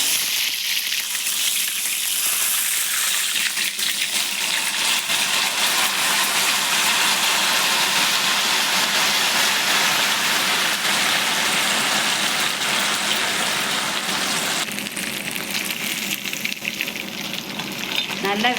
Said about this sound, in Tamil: இப்போ மீன் பொரிச்சிக்கலாம்.